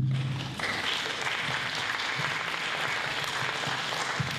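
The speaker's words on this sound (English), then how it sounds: "thank you for the applause" An audience applauds steadily for the presenters at an evening lecture event about Ohio writer Jim Tully; dense, even clapping fills the room throughout, with a brief tonal sound at the very start.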